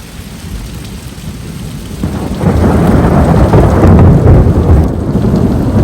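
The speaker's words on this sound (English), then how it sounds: "Lightning is striking." Thunder rumbles through a severe storm with steady rain pouring down, the low roll swelling louder midway and holding strong to the end, no voices present.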